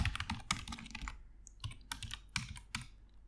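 Code being typed on a computer keyboard, bursts of quick close key clicks broken by short pauses, with a couple of louder separate taps near the end.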